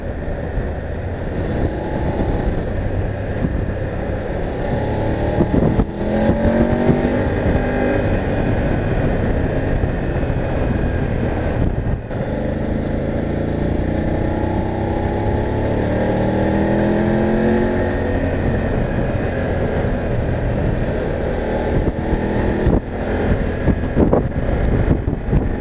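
A BMW F850 GS Adventure motorcycle ridden at steady speed, its engine drone close and continuous under heavy wind buffeting, with a few shifts in engine pitch as it accelerates, and nobody speaking throughout.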